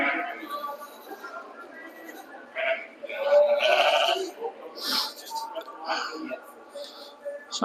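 Dutch Spotted sheep bleat repeatedly at a judging show in Carlisle, several overlapping calls rising and falling at varying distances, with some talk mixed in among the animals.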